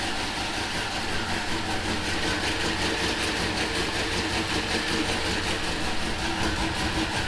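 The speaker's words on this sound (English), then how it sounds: "we got that turbo spooling" A Maxpeedingrods turbocharged engine runs steadily with its turbo spooling, a dense continuous roar and whine filling the clip at constant loudness, with no talking.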